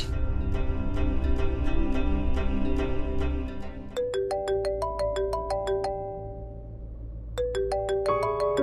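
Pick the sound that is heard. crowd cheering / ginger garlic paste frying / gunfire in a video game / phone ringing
phone ringing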